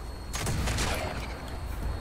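A weapon firing in the video game Fallout 76, a rapid run of loud shots in the first second that tails off into softer intermittent reports against constant game noise.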